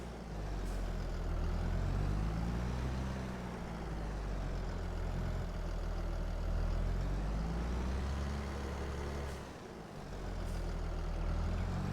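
A tractor engine in a farming video game drones steadily and loud with a heavy low rumble that swells and dips, briefly cutting out near the end before resuming.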